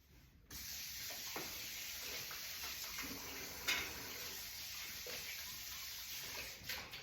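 Tap water runs steadily in a home kitchen as hands are washed beneath it, a continuous close hiss and splash with a brief louder splatter partway through, no voices.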